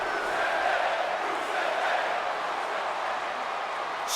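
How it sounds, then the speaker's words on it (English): A WWE 2K19 wrestling game crowd roars in a steady, broad wash of cheering noise heard from an arena-like distance, sustained without a break. "Ricochet, Rusev, listen to the crowd"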